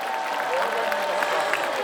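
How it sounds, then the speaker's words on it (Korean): A festival audience in Yangsan claps in a dense, steady burst of applause, heard from amid the crowd at moderate volume for a couple of seconds. "우리 양산 시민 여러분 박수 한번 보내드리겠습니다."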